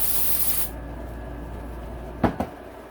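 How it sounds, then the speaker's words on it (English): Brake cleaner sprayed onto KTM 250SX engine parts: a loud steady aerosol hiss for the first half second cuts off abruptly, followed by quiet room tone and two short, sharp knocks near the end. "It's a brake cleaner."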